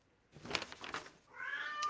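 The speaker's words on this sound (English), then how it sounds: "please ignore my cat. The Siamese is getting active." A Siamese cat indoors gives a short, close meow that rises into a drawn-out, wavering cry, fairly quiet and heard alone.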